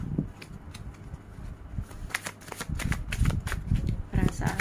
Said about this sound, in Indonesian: Kalau gitu Tria shuffle kartunya ya.